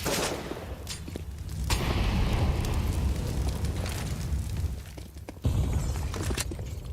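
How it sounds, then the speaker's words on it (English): Grenade blast in Counter-Strike on the Inferno map, a sharp burst followed by a long rumbling roar and debris, loud and close, with a second hard impact near the end. "Grenade there for the balcony."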